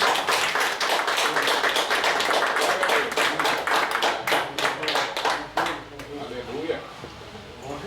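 A church congregation breaks into applause after a prayer, a dense burst of many hands clapping that thins into scattered claps, with a voice talking over it.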